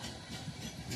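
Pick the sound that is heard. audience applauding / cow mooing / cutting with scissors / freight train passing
freight train passing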